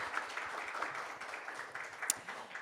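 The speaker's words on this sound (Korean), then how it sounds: "큰 박수 부탁드릴게요" Scattered audience applause after a lecture on modern art history at a Korean humanities concert, fairly faint and steady, thin and distant.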